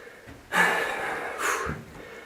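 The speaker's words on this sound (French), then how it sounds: "Excusez-moi, je suis un peu essoufflé." A man out of breath after climbing stairs, two heavy, drawn-out breaths, a long exhale then a shorter one, close to the microphone.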